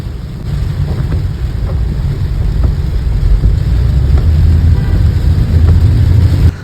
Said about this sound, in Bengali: সন্ধ্যার সময়টা এসে বৃষ্টির মাত্রা মনে হয় আর একটু বেড়ে গেল